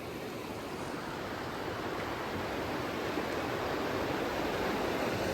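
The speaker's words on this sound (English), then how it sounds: "So this is the Nisqually River" Nisqually River flowing on the Wonderland Trail, a constant broad rushing roar of water, steady and fairly loud, with no voices.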